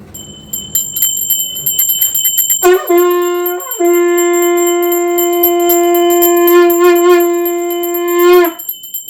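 A temple bell rings loudly during Satyanarayan katha worship, its clear metallic tone ringing out and sustaining with repeated strikes after a short stretch of chanting voices at the start.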